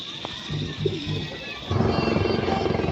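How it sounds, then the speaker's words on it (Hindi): A helicopter carrying the chief minister arrives overhead near a rooftop pigeon loft. Its steady rotor drone grows louder and closer halfway through, and people talk throughout. "जो हेलीकॉप्टर आ रहा है ये मुख्यमंत्री साहब आ रहे हैं"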